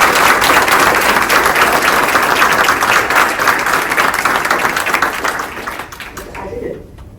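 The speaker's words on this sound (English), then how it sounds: "you deserve a round of applause for a staggering success" Loud audience applause at a NASA Artemis supplier appreciation event, dense clapping from a large crowd that holds steady and then fades away near the end.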